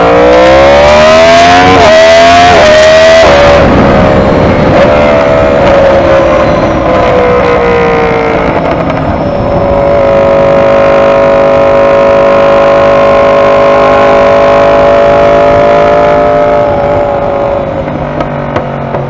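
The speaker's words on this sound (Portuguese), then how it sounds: "Sei que tem muita gente que não gosta do barulho do motor crossplane" A crossplane motorcycle engine revs hard, climbing and dropping in pitch through several quick blips before settling into a long, loud, rising then steady roar, heard up close with no talking.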